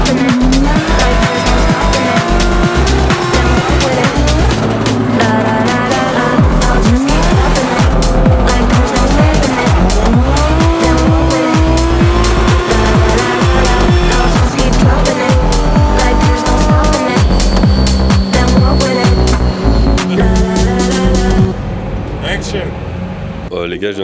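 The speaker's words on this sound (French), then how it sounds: "ça c'est les voitures dans lesquelles on a roulé. Des M4 de drift et elles sont dingues." BMW M4 drift cars skid and squeal their tires in long, loud wails over revving engines, repeated across a sustained run, with music and voices mixed in.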